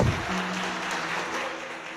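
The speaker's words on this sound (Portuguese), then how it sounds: "Vamos aplaudir Jesus bem forte." A church congregation claps in a continuous wash of applause, fairly loud and steady, with a faint held tone underneath and no clear speech.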